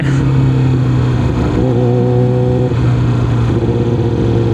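A Yamaha R6 sport bike engine drones loud and close while riding, its steady mid-pitched roar shifting as the revs rise and settle, with wind rush underneath and no talking.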